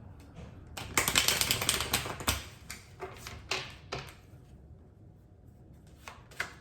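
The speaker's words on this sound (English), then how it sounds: "I'm going to pull some oracle cards for you guys" Oracle cards are shuffled and pulled from the deck. A dense riffling burst comes first, followed by scattered crisp taps and flicks of card against card, close and dry with no talking.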